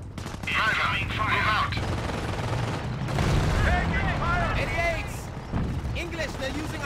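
Gunfire in the World War II strategy game Company of Heroes, Operation Market Garden at Arnhem: rapid machine-gun bursts and rifle shots at moderate level, overlaid with soldiers shouting callouts.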